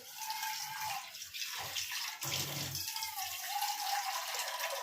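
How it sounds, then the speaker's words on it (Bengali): Water is poured into a thick gram-flour curry batter for pakoda, a close, hissy, splashy stream in a few uneven bursts lasting several seconds, quiet overall, with no speech. "এবার আমি এতে আরেকটু জল দেবো, না তো ঘন হয়ে যাবে।"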